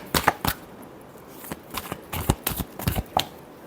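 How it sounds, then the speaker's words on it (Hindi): A deck of tarot cards is shuffled by hand in a series of quick, crisp riffling bursts and soft slaps, uneven in rhythm, close and fairly quiet. "last shuffle"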